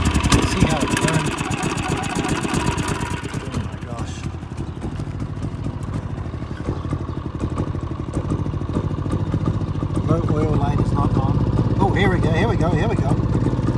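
A Generac iQ3500 inverter generator, a faulty unit producing smoke, runs outdoors with a steady rough mid-pitched engine drone and clatter, loud and close, the engine note rising slightly near the end.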